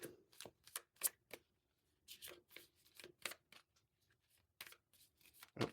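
Tarot cards from the Angels and Ancestors oracle deck being shuffled by hand, a quiet, close series of papery riffles and flicks in uneven bursts with brief pauses between.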